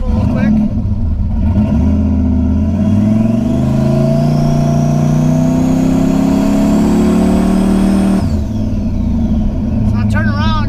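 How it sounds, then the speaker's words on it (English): Four-wheel-drive truck engine revving hard as it pulls through wet snow, a loud, close, steady roar rising in pitch for several seconds before dropping off, with a voice heard at the end. "a 4-wheel drive pull quick."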